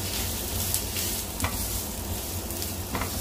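Onion sizzles in a hot pan while a utensil stirs and scrapes, a steady frying hiss with occasional clinks, no talking.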